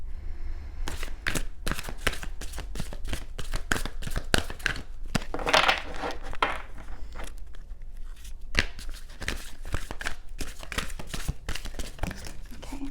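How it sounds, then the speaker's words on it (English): Slightly bent tarot cards are shuffled in quick repeated riffles and taps, a dense run of crisp papery snaps close by, with no talking. "These cards are weird because they're kind of bent, so sometimes they're a little weird to shuffle."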